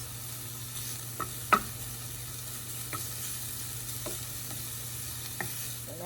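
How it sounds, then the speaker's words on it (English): Chopped jalapeno sizzles gently in a frying pan, a soft steady hiss close by, punctuated by a few sharp utensil scrapes and taps as it is stirred, no talking. "I'm just going to stir this around for about a minute and a half."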